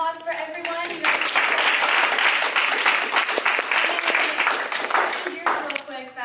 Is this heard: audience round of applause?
yes